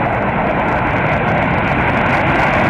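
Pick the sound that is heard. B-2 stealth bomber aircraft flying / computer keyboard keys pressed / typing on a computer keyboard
B-2 stealth bomber aircraft flying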